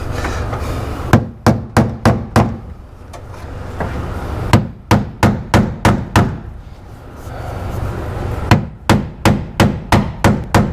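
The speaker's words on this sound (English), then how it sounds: "grab our old body hammer here. Give her a couple of whacks." Three bursts of fast, ringing body-hammer blows on a 1957 Cadillac during headliner installation, each volley of five or six strikes separated by short pauses, loud and near.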